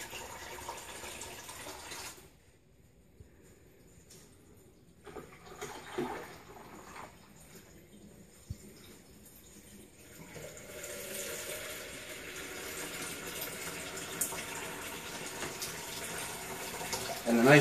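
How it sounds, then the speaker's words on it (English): Cold water trickles, then pours into a home-brewing fermenter of wort, a faint splashing that swells into a steadier gush toward the end. "A little more cold water will bring it down to the perfect fermentation temperature."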